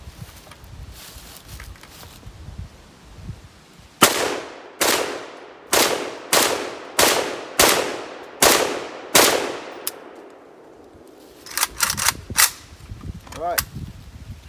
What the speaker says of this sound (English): So let's get to it and start shooting.